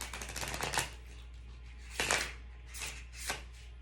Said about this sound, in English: Let me just shuffle them for a second.